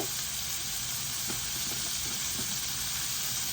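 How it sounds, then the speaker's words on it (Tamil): Tomatoes sautéing in hot oil in a pan, a loud, dense sizzle right up close with occasional stirring scrapes, continuous and unbroken. "இப்போ தக்காளி வதங்கட்டும்"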